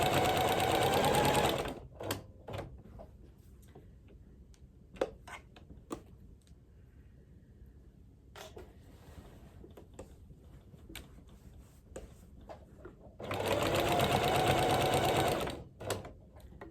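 A sewing machine quilting through fabric and batting runs in two loud continuous bursts at start and end, with scattered ticks, taps and handling clicks in the quieter stretch between.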